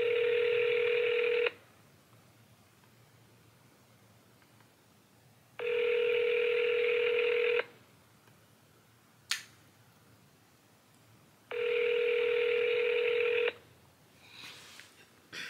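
A phone call for a prank rings out in three loud, evenly spaced ringback tones, each about two seconds long with quiet gaps between, plus a couple of faint clicks near the end.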